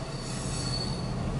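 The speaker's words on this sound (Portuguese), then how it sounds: "Aqui passa a trem, mano." A passing train fills the clip with a loud, continuous rumble and a high metal wheel squeal that holds steady throughout, close by at a railway crossing in the United States.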